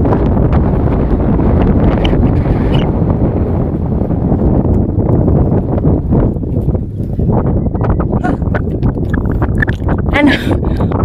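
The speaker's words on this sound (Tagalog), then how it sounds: "Mahangin." Strong wind gusting across a hilltop, buffeting the microphone with a loud, steady roar, while people talk close by.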